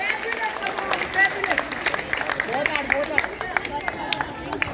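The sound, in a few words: audience applause for the children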